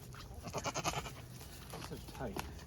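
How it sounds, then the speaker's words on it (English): Several goats on a farm bleat in wavering, overlapping cries, close and fairly loud amid background farm noise while people talk. "Stupid goat."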